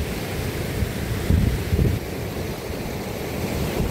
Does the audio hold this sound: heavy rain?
yes